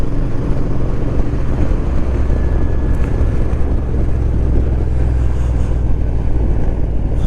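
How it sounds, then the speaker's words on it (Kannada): Strong wind buffeting a motorcycle rider on a monsoon ride through a ghat road, a loud, constant roaring rush with low rumble and no speech. "ಈ ಗಾಳಿ ಇದೆ ಗುರು."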